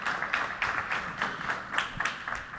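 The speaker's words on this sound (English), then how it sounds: "Give out applause to Dr." Conference audience applauding after a speaker's introduction, a steady patter of many hands heard from some distance, fairly soft, with no talk over it.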